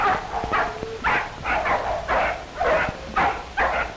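Five puppies yelp and yip in quick, repeated bursts nearby, their high cries overlapping without pause.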